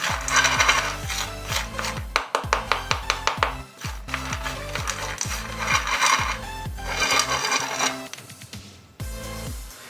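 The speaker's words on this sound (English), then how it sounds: "I'll use my spoon to just collect whatever is on the base of the baking tray and mix it well." A metal spoon scrapes and stirs roasted green peas across a baking tray in a quick series of sharp, rhythmic scrapes and clinks, close and alone.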